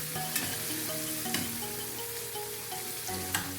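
An onion and tomato masala sizzles steadily in a pan while Punjabi kadhi is cooked, close and even, with a few sharp stirring clicks scattered through it and nobody talking.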